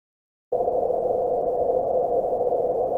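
After half a second of silence, a steady band of hissing noise centered on a mid-pitched tone begins and holds unchanged to the end.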